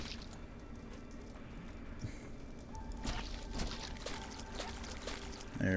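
Water rinses and pours in the game Viscera Cleanup Detail in a temple area, a splashy running stream that swells a little midway. Soft squishy movement and a few small knocks sit underneath it.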